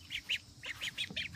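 Several short nasal calls in quick succession, fairly close, repeated in a loose rhythm like ducks quacking softly.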